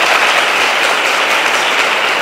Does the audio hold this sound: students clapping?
yes